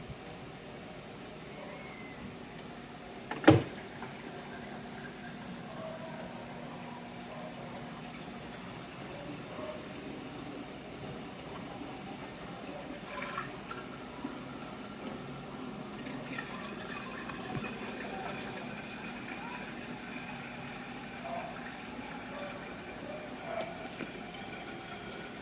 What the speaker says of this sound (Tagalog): first, we need to drain the water first from the washer